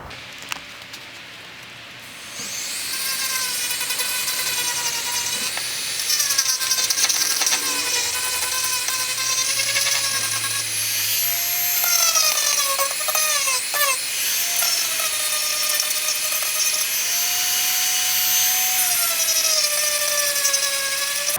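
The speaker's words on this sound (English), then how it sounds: "So I was drilling out these holes here." A power drill whines steadily at high pitch for a long stretch, its tone shifting as it bites into a metal exhaust bracket for a C5 Corvette, with no talking.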